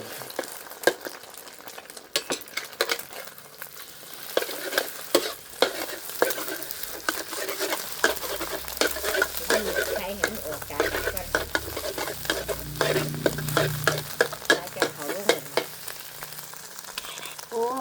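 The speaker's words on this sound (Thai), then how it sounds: "ทอดไข่ก่อนเขาจะเอาข้าวลง ข้าวใส่ไข่" Egg and rice stir-frying in a pan for old-style Thai fried rice, a steady close sizzle broken by repeated scraping and stirring strokes, growing busier and louder midway.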